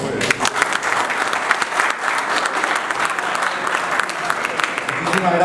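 Strong audience applause rings out at the Expo 2017 launch event in Paraguay, a dense, loud wall of clapping from a large crowd holding steady for several seconds, with no voices over it.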